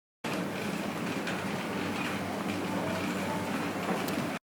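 A looped field recording of a morning stroll in Mallorca: a steady wash of outdoor ambience with distant traffic-like rumble and faint clatter, moderately quiet and continuous, with no talking.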